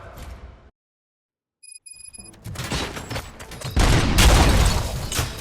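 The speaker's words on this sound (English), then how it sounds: "Gunshots? What's going on?" Gunfire erupts in the video game Robocop: Rogue City, a brief electronic tone giving way to loud, dense bursts of shots and booms that build in intensity.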